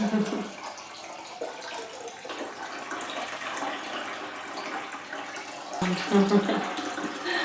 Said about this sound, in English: What I'm trying to do is get about maybe 4 gallons of water in this big bucket, this 5-gallon bucket.